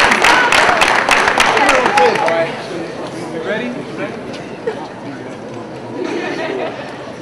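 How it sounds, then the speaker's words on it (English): An audience at a collegiate poetry slam in Tallahassee bursts into loud, dense applause that fades after a couple of seconds into cheers and chatter, with voices talking throughout. "I want y'all to give yourselves a round of applause"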